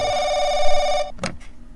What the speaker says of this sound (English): And now we're gonna get the bad phone call.